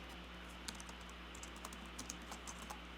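Keys tapped on a computer keyboard in an irregular run of light, quiet clicks over a steady low electrical hum, with no one talking.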